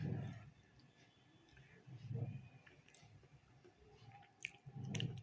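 Bagara rice with mutton fry is chewed close to the mic: soft, wet mastication in slow bursts with faint clicks and a little smacking between bites.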